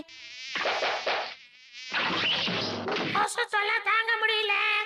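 A buzzing mosquito whine comes and goes among voices and a sudden thump, with wavering, sing-song vocal sounds near the end.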